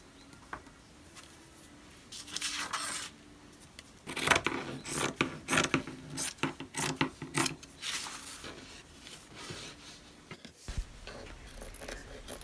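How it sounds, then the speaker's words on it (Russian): Scissors snip and slide through folded fabric along a traced pattern, leaving a seam allowance, in a run of close, rasping cuts with short pauses, steady and near, with no talk. "Выкройку очертила, и теперь я вырезаю, оставляя припуски на швы"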